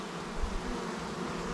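Bees buzzing steadily around a beehive, a continuous close, even drone with a slight swell partway through and no voices.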